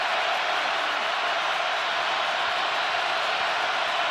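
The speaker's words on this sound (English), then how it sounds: "Crowd already at full throat" A dense stadium crowd roars at an NFL game between the Denver Broncos and Kansas City Chiefs, a loud, steady wall of noise that holds without a break from start to finish.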